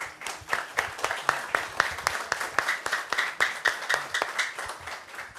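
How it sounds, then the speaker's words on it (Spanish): An audience gives the pastor a round of applause at a church seminar, with loud, close, crisp hand claps repeating in a brisk, fairly even stream for several seconds. "Así vamos a darle un fuerte aplauso al pastor."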